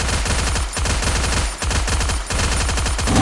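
Sustained rapid automatic gunfire in the mobile shooter Free Fire, loud and dense, in several long bursts with brief gaps and no talk over it.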